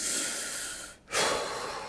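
A person imitates the rapid, panicked breathing of a panic attack. It is a loud, close, airy breath, cut by a brief pause before a sharp rush of air resumes.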